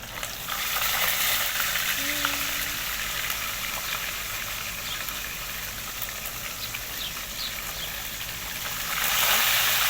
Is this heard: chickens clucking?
no